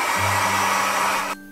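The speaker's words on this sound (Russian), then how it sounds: "И высушу с помощью фена." A handheld hair dryer blows steadily and loudly on a doll's freshly washed hair, a continuous whooshing hum that cuts off abruptly at the end.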